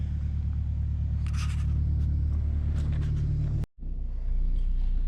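A Honda EK Civic with a swapped H22A engine idles steadily, a deep continuous low rumble close by, with a few faint clicks and rustles over it and a brief dropout near the end.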